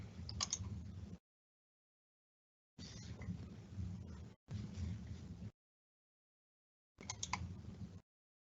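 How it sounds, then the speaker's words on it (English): Quiet keyboard typing comes in four short bursts of rapid key clicks, separated by stretches of silence. "just 1 second while I finish typing it out."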